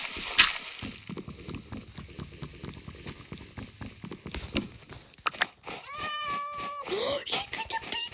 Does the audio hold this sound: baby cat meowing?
yes